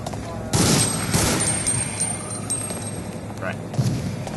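Gunfire in the survival horror game Resident Evil Outbreak, a few sharp bursts of shots with a ringing tone, heard under players chatting.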